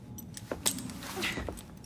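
Keys jangle briefly as they are handed over in Assassin's Creed Syndicate, a few soft metallic clinks set among faint background sounds.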